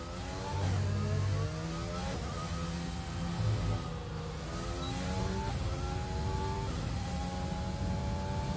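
F1 2020 race car engine on the new Vietnam track in an Xbox One X video game, a continuous high revving whine that climbs and drops through gear changes, steady and moderately loud throughout with no talking.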